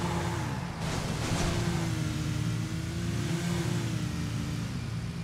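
In PUBG, a car engine revs, its pitch climbing and wavering as the throttle rises and eases, loud and continuous with no talking.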